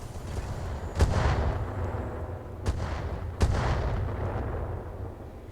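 Heavy mech weapons firing in the BattleTech video game (RogueTech mod, superheavy mission): three sharp booming shots at uneven intervals, each followed by a rolling rumble, over a continuous low battle drone.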